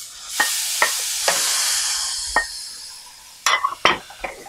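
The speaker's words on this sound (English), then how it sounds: "So when you add a coriander cilantro, we just have to mix it like just for a minute or so and take it out of the pan" Chopped cilantro stirred into grated coconut in a frying pan for South Indian thuvaiyal: a steady soft sizzle under a handful of sharp utensil scrapes and clinks against the pan, close by, with no voices.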